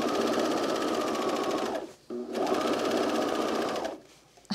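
A sewing machine stitches a 5/8 seam on a pair of Peaks and Valley pants in two fast, steady runs, with a short pause between them and a stop near the end, loud and close.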